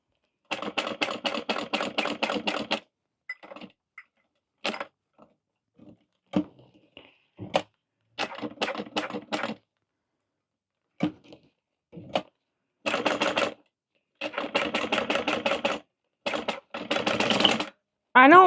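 Bursts of rapid stitching from a sewing machine working on a fabric waist pack, several runs a few seconds long separated by silences and short single clicks, close and clear.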